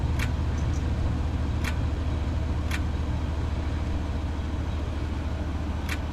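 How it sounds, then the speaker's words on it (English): Steady low rumble of a P42 locomotive diesel loading up in the Run 8 train simulator on CSX track, a constant droning engine with a few faint sharp clicks over it. "You can tell when the P42 kicks in."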